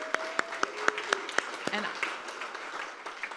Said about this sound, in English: a round of applause for Chef Lee.